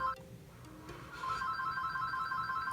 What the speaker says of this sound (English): Oh, phone. I guess we'll just wait until it stops ringing.